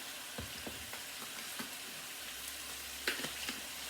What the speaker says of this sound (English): this is all sauteing in the garlic